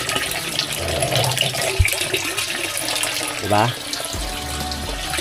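Tap water runs steadily into a container at a borrowed hillside water source, a continuous splashing fill heard up close with people talking over it.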